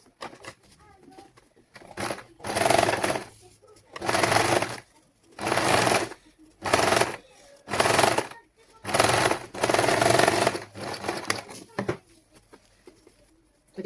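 An electric sewing machine stitches ribbon onto a newborn's cloth langot in short repeated bursts of rapid whirring, each about a second long with quiet pauses between, close and fairly loud.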